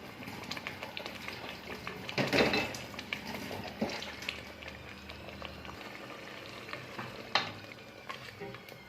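Broad beans fry in a pan with grated tomato for a hot red sauce, giving a quiet, steady bubbling sizzle broken by a few louder clatters and stirring knocks.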